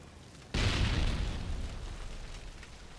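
A Semtex grenade goes off in a video game with a sudden loud deep boom. The blast rumbles on and slowly decays over the next couple of seconds, with no talk.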